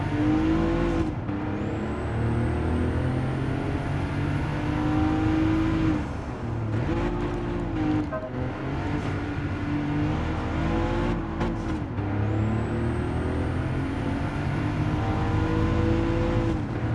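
A Porsche Widowmaker races in Gran Turismo 7, its engine rising through the gears with repeated revving climbs and brief dips at each shift, loud and steady throughout.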